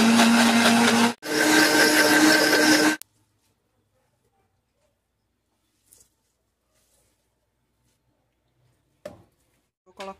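A kitchen blender whirs loudly while blending tofu and oil for vegan catupiry, running in two bursts with a short pause between them, then stops, leaving near silence broken by faint clicks and handling noises.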